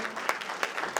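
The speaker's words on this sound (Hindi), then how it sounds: "एक बार फिर से जोरदार तालियां बजाते हैं आलोक नायर" A brief burst of audience clapping in a theatre for the director after a drama at NCZCC, a moderate crowd of hands with a few distinct sharp claps, heard alone and fairly soft.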